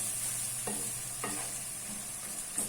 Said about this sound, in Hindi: जब तक टमाटर टेंडर होंगे, जब तक मसाले की भुनाई भी साथ होती जाएगी